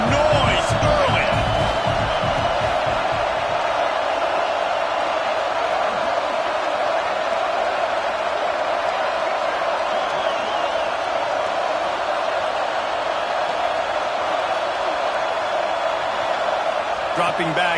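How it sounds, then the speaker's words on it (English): At a Clemson versus Florida college football game, a large stadium crowd roars in a sustained, dense wash of noise. A commentator talks over it. "This crowd bringing the energy and noise early."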